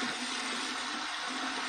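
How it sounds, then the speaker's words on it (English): Cold tap water runs steadily over a solid alum block from Phoenix Shaving, a constant close hiss and splatter with no speech. "We're going to run it under some cold water."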